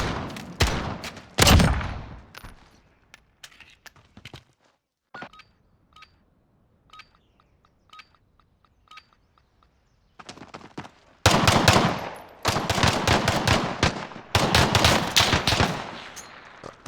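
Gunfire rings out in a Call of Duty match at a University of Colorado Denver tournament: loud rapid bursts at the start, a long quiet stretch with scattered distant shots, then sustained heavy volleys near the end.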